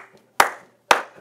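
Two sharp, close hand claps about half a second apart, each ringing briefly in a room, with silence between them.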